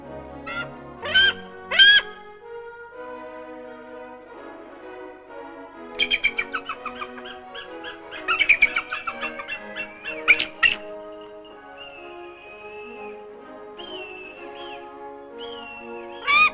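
Birds of prey at an eagle and falcon farm on castle grounds, calling during a flight demonstration: sharp, chirping cries come in short clustered bursts, fairly close, over a steady tonal background.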